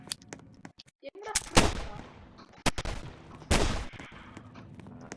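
Rapid gunfire bursts in the video game Dead Rails, with loud close volleys and shorter single shots scattered across the stretch, alone without talk.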